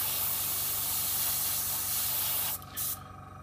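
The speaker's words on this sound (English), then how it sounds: "I find that is the sort of optimum spraying pressure for this airbrush" Airbrush spraying paint at about 25 psi onto a scale model, a loud, close, continuous hiss that cuts out briefly near the end, returns for a moment, then stops.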